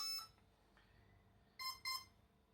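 An RC chuck glider's ESC chirps a startup sequence after the battery is connected: a faint tone early, then two short, bright electronic beeps in quick succession near the end, close and clear over quiet background.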